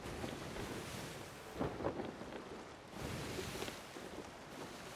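A stormy sea in Sea of Thieves, with steady rain and wind noise running throughout and two rolling rumbles of thunder swelling near the middle and end.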